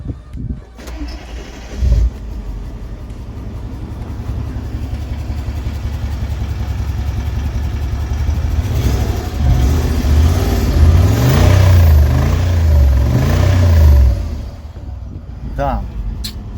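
A Mercedes G-Wagen engine idles with a deep, steady rumble, then revs up repeatedly in rising and falling surges before settling back, loud and close.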